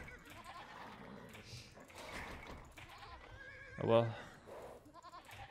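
In-game sheep in Age of Empires let out a short, reedy bleat midway, clearly standing out over quiet game ambience, with a player talking at moments.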